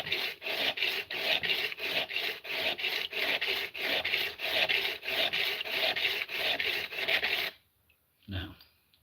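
A blade bevel is rubbed back and forth on a wobbling wooden sharpening block, giving about twenty rhythmic rasping strokes, close and steady, then a pause and one last faint stroke.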